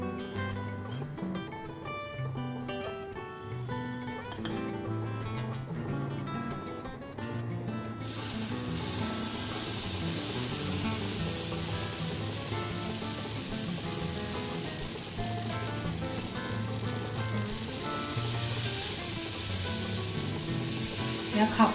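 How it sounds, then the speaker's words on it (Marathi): Khaparoli batter hits a hot, oiled cast-iron griddle and a loud, steady hiss follows, rising after an opening stretch of tonal music and continuing unbroken at close range until the end. "त्याच्यावर आपली खापरोळी घालूया"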